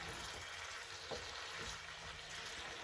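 Red peppers, mushrooms, chopped garlic and a little onion cook in a pan with a steady, even sizzle that holds close and unbroken, while a faint tap or clink lands once partway through.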